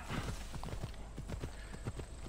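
Horse hooves clip-clop steadily in Assassin's Creed Odyssey, a quick even rhythm of soft thuds at moderate distance over a faint game ambience, with no talk.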